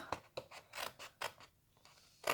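Scissors cut scrapbooking card along its full length in a run of quick, crisp snips, a short pause, then more, close and fairly quiet, with no voices.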